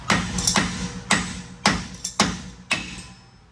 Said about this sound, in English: if you leave the nut on here whenever you go to beat on it, you won't mushroom out the end of that bolt.